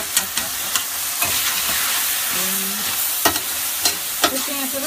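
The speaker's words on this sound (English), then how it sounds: "Just chopping that up." Repeated sharp knocks of a utensil chopping meat in a frying pan over steady sizzling, spaced irregularly, close by with no talking.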